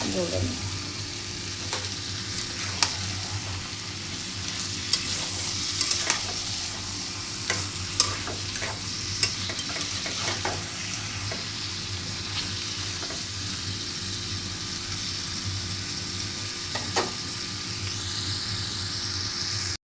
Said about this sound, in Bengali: মশলাটা ভালো করে কষাই নিই মাংসটা দিয়ে দিলাম মশলাটা কষা কষে আসে ভালো করে সুন্দর করে মাংসটা কষায়